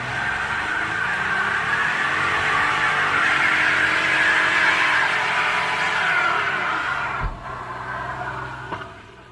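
A Corvette C6 Z06 doing a burnout, its engine roaring loud and sustained with screeching tire spin close by, then cutting off abruptly with a couple of thuds near the end.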